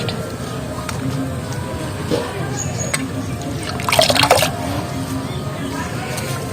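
Cut potatoes are washed by hand in water, a steady splashing and sloshing with a brief louder swirl midway, heard close up while someone talks over it.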